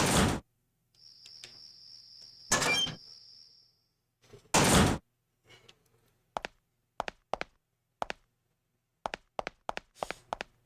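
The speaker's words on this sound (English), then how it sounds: "Wrong door." In the video game Parasite Eve 2, loud door bursts open and shut with heavy whooshing thuds. A thin high tone hangs between them, and a run of sharp clicks and taps follows in an otherwise silent space.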